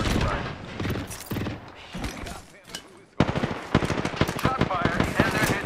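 Rapid automatic gunfire in Apex Legends, with bursts of shots that pause briefly and then resume as a denser, louder volley of sharp, rattling reports.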